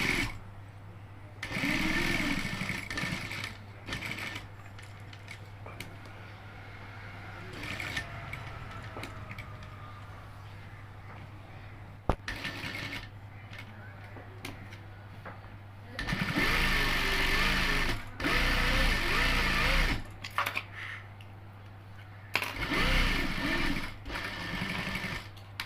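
A sewing machine stitches fabric layered with buckram, running in several loud bursts of a few seconds each with pauses and handling noise between, over a steady low hum.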